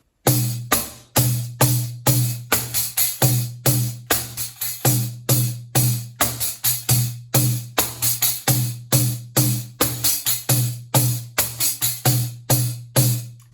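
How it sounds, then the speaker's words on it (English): A drum, played as a pandeiro, beats out a steady repeating pattern of sharp, close hits with a resonant low thump, each stroke decaying quickly, with no talking. "So on the drum, it's going to sound like this."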